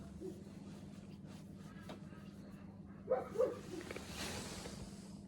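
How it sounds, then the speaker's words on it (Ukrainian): A dog barks twice in the distance near an outdoor family smokehouse, two quick yaps standing out faintly over a steady low hum and soft background noise. "Чуєш гавкає?"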